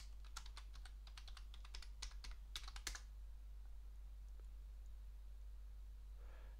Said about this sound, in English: it's done by typing sudo apt update to update the system